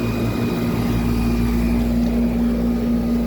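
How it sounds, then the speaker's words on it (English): A 1995 Tempstar central air conditioner runs at its first startup of the year, giving a steady, loud mechanical hum with a strong low drone that stays constant and shaky throughout, with no talk. "Tempstar is running for the first time in 2024."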